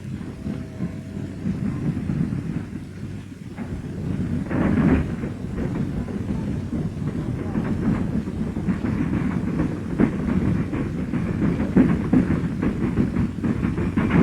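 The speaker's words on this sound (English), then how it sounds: "the cars are uncoupled by the hump conductor to roll by gravity down into the gentle incline of the classification yard" Heavy rumbling of freight cars rolling by gravity down a hump classification yard, with intermittent clanks and squeals, a steady loud rail roar continuing throughout without voices.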